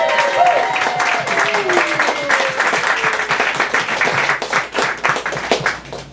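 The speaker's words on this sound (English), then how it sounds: "Let's have a round of applause for Andrea and Nevin." An open mic audience in a bar applauds steadily, a small crowd's dense clapping held at moderate loudness for several seconds, with a faint voice briefly underneath.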